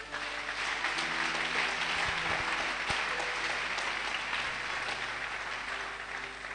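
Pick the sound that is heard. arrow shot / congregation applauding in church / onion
congregation applauding in church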